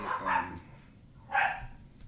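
Dogs bark close by in two bursts, a pair of quick barks followed by a single louder one after a short pause.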